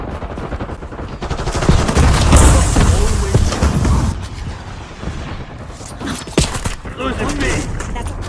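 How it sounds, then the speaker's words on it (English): Gunfire crackles through a dense military video-game battle as an enemy sniper shoots, sustained bursts and booms filling the mix with radio-style voices talking over it. "Enemy sniper shooting."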